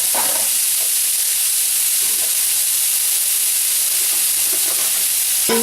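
Chopped onions sauté in a pan on the stove, a loud continuous sizzle and hiss with faint scrapes of stirring throughout.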